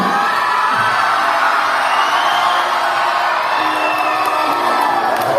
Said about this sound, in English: Yes, clap for it, everyone, once again.